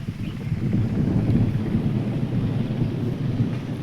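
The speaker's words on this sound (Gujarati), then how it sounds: "અત્યારે વાતાવરણ એકદમ આમ કાળું મીંઢોળ થઈ ગયું છે ને વીજળીના કડાકા ભડાકા પણ થવા જઈ રહ્યા છે." Pre-monsoon storm wind gusting hard across the microphone, with low rumbling thunder mixed into a continuous, loud roar that stays fairly even throughout.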